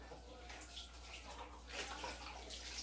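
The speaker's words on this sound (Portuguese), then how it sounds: "começar a lavar esses pratos pra mim" Tap water runs steadily while dishes are washed in a home kitchen, a faint, constant hiss and splash that swells slightly toward the end, with no voices.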